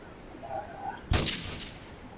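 A single sharp gunshot from the game GTA 3 Liberty City cracks out about halfway through, loud and close, preceded by quiet ambient noise.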